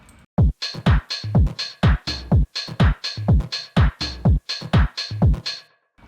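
A lo-fi house beat with every part playing together: punchy, booming kicks on a steady four-on-the-floor pulse, with crisp hi-hat and snare layers stacked above, loud and close with no voices.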